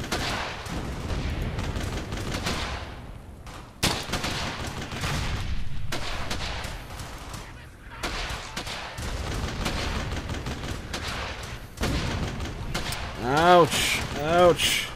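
Sustained suppressing gunfire and explosions from the video game Brothers In Arms: Hell's Highway, with dense bursts of rifle and machine-gun fire, heavy booms and shouted voices over the battle.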